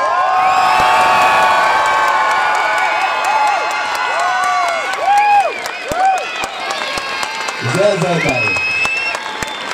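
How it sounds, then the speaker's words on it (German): A climate-strike crowd of demonstrators cheers and shouts loudly, with scattered clapping and whoops, while a voice speaks over the din and a higher child-like shout rises near the end. "alle, die heute hier sind, schreien, trappeln, klatschen"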